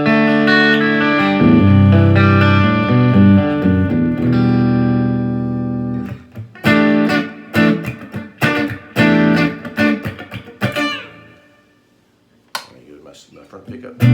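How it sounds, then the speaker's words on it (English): A clean electric guitar played through a bass amp rings out a long sustained chord with a touch of spring reverb, then shifts to short, choppy strums and muted hits. "if I'm playing just straight, there's no effects on here right now except for a little bit of spring reverb"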